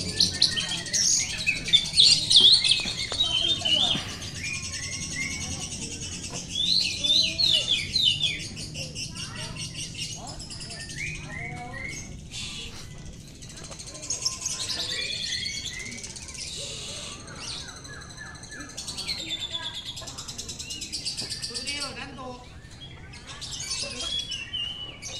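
Oriental magpie-robins sing at a bird training contest, with repeated bright, high chirps and trills in bursts over a busy background of other birds, while people talk now and then.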